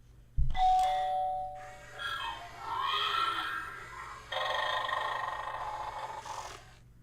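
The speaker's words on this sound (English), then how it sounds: "rings my doorbell" A doorbell chimes once, followed by a lingering electronic tone and a few muffled grunting sounds nearby, with no talking.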